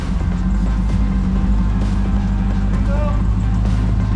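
A steady low jeep engine rumble, from a swapped Demon engine in the desert, runs throughout, loud and close, with faint voices and shouting mixed in over the drone.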